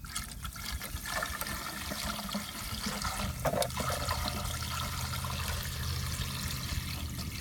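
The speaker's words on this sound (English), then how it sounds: "now you want to pour the muriatic acid inside the cell" Muriatic acid is poured into a swimming pool salt cell standing in a bucket, giving a steady close trickling and splashing liquid pour that continues throughout with no talk.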